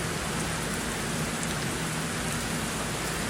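Steady rain pours down in Ottawa, Canada, a dense, even hiss of drops on surfaces throughout, with no other sounds standing out.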